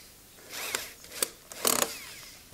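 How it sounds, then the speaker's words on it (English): A cordless drill drives screws into the wooden parts of a beehive box kit, with short whirring bursts close by, each rising briefly and stopping between screws. "we should just be able to screw it all straight together"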